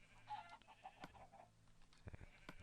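Chickens cluck in Minecraft, a series of short, fairly close clucks and squawks in an irregular rhythm with no talking.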